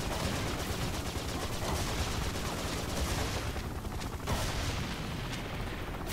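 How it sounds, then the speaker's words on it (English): Dense, continuous gunfire roars through in Serious Sam 2, shotgun blasts destroying a helicopter, heavy blasts blending into a loud sustained barrage with booming low rumble, like a frantic action game firefight. "Destroy a helicopter with two shotgun shells."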